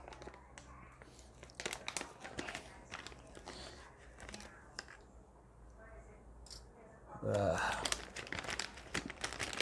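A small plastic bag crinkles and rustles in hand while an Ender 3 Pro 3D printer is unboxed, close crackling bursts that grow louder near the end, with someone talking throughout.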